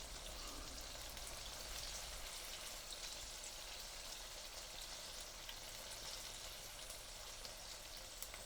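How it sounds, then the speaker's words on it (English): Tofu pan-frying in oil gives a steady, dense sizzle that holds at an even, fairly quiet level throughout, with faint crackles and no voices. "you can start flipping them and then let them fry for about 5 minutes before flipping them again"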